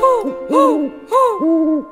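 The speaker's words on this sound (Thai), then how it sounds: "ตกคำเจ้านกฮูกร้อง" An owl hoots at dusk in a children's animal song, four clear, loud, rounded hoots in a rhythmic pattern close up and alone.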